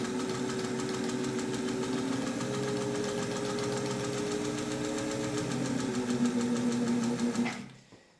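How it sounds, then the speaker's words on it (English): A fully rebuilt Singer 201 sewing machine stitching through four layers of marine grade vinyl, running with a fast, even mechanical chatter close up for several seconds before stopping abruptly, no talking. "4 layers of marine grade vinyl with a Singer 201 that's been completely rebuilt"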